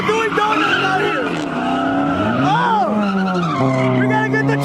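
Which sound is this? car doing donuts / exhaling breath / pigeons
car doing donuts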